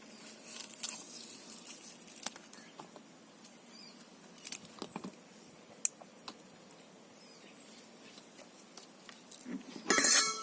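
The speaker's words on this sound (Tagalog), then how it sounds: "parang umuulan na" Rain beginning to fall at an outdoor Filipino home cooking setup, a soft scattered patter of drops throughout with a few sharper taps, growing briefly louder near the end.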